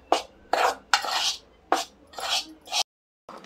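Spoon stirring chickpea flour and rice flour batter in a bowl for chilli and brinjal bhaji, with repeated scraping and clinking strokes in close bursts, then a brief pause.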